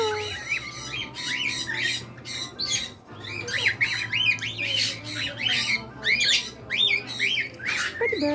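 Exotic pet birds in a large bird store squawk and chirp repeatedly, loud and close, in a busy overlapping chorus over a steady low hum, with a brief pause near the three-second mark.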